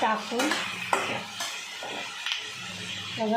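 Tomato, ginger, garlic and cashews being stirred in a pan, with spoon scrapes and clinks against metal over a soft sizzle, intermittent and close.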